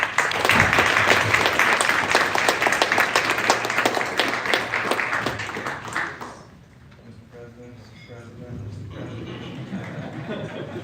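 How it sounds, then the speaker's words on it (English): An audience at a Libertarian presidential debate applauds loudly, dense clapping for about six seconds before it fades and a voice speaks over the quieter room. "Let's welcome them all as they get seated with a big round of applause, please."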